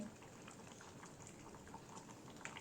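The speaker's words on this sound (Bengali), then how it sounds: "টকবক টকবক করে ফুটছে" Soft, continuous bubbling of jaggery and sugar syrup boiling in a pan for mango pickle, with small popping bursts scattered throughout, fairly quiet and close.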